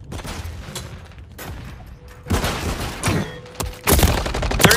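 Grenade explosions in the Modern Warfare 3 video game, several sharp loud bursts and booms in quick succession over a noisy battlefield, growing heavier toward the end.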